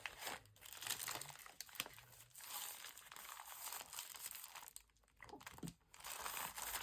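Junk mail paper being crinkled and handled while a glue book is assembled, with continuous crackling and rustling bursts close up, brief pauses near the end, and no talking.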